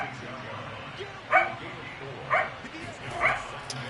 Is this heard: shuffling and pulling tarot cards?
no